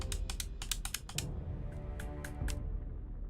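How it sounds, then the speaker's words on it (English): Quick, light plastic clicks from the buttons of an Xbox controller, a run of sharp taps followed by a few sparser presses, close and fairly clear with no talking. "I'm playing on my Xbox controller, and it is very, very clicky"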